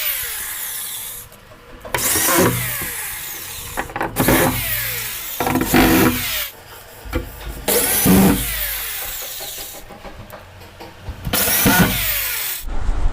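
Screws are driven with a power tool into a wooden kitchen cupboard door at the top, centre and bottom, in several short buzzing bursts separated by quieter handling and rubbing noises.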